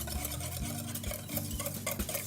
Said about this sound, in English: Vinegar. Thus, vinaigrette, salt, Dijon mustard, and then whisk that to combine